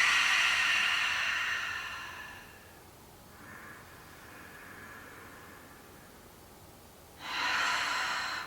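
A slow, airy breath is drawn in through the nose and released through the mouth at the start of a yoga class, followed by a quieter breath and then another strong inhale, all close and without talk.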